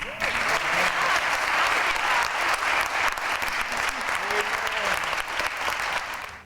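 Sustained, dense audience applause fills a ceremony hall after an award speech at a diversity awards event, steady and loud throughout before easing slightly at the very end.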